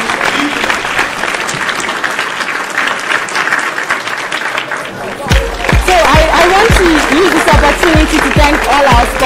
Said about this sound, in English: Please a round of applause for our company.